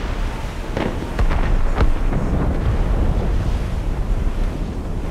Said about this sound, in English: Cannon fire, deep within the fog.